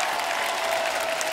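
A studio audience at a Hindi comedy talk show gives loud, dense applause for the guests, a short steady burst of many hands clapping.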